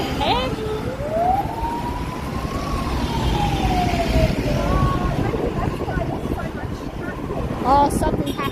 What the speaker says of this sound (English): No one's moving for the ambulance.